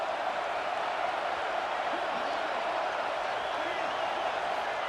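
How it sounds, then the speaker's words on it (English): Steady, dense roar of a stadium crowd in an LSU vs. Clemson college football game, loud and continuous throughout with a constant crowd wash and no distinct peaks. "This crowd trying to make life miserable for this offense."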